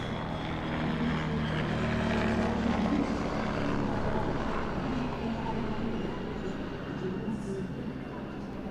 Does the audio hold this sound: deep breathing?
no